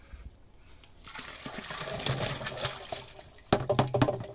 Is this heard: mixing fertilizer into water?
yes